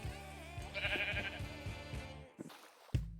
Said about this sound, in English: I found 2 lonely sheep on my way back home